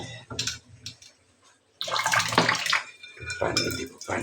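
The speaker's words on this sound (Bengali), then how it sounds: "যেগুলো লেগে আছে একটু পানি দেবো" Water is poured into a cooking pot to rinse off clinging spices while making beef khichuri, splashing in two bursts, a short one and then a longer, fuller pour with a brief quiet gap between.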